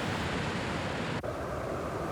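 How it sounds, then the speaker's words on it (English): Rapids on the Colorado River in the Grand Canyon give a steady, dense, loud rushing roar with no break. "The rapids of the Colorado are legendary"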